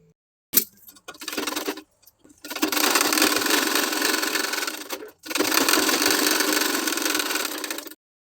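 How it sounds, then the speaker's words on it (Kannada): A sewing machine stitching a blouse sleeve whirs in two long, loud, steady runs, the second starting after a short pause, close up, with brief clicks before each run and no speech. "ಈ ರೀತಿ ಸ್ಲೀವ್ಸ್ನ ತಿರ್ಗಿಸ್ಕೊಂಡು ಮತ್ತೆ ಮೇಲೆ ಒಂದು ಸ್ಟಿಚ್ನ ಮಾಡ್ಕೊಳ್ಬೇಕು."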